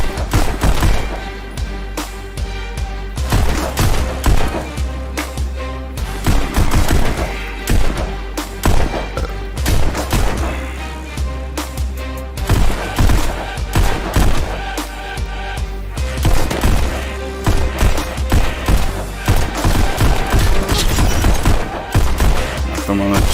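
Gunfire in the VR shooting game Pistol Whip comes as rapid bursts of sharp shots over a thumping music track, loud and continuous, with someone talking at times.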